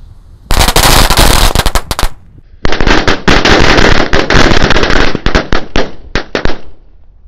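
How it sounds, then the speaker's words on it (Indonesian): A string of 100 firecrackers, an Indonesian mercon renteng set off outdoors, bursts in a dense, loud crackling roll that briefly pauses, then resumes and thins into scattered final pops. "Selanjutnya ini ada mercon renteng 100 sekaligus ya"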